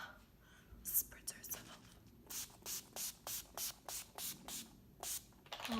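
Setting spray spritzed onto a face during a full glam makeup routine, about ten quick evenly spaced hissing bursts in a steady rhythm, close and fairly quiet, following a few soft earlier rustles.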